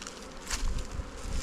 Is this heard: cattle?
no